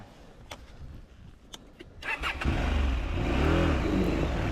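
A trail motorcycle on a ride starts after a few scattered clicks and knocks, then its engine catches and revs up to a loud, steady, close roar with rising pitch sweeps.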